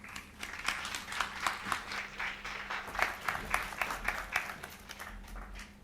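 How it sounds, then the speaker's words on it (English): Audience applause fills the room at a film and screen studies talk during a Brighton Fringe event, a steady patter of many hands clapping at moderate volume with no voices over it. "I know that applause was for Ewan"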